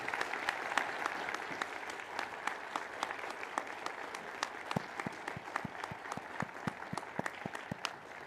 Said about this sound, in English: give yourselves another round of applause on this big day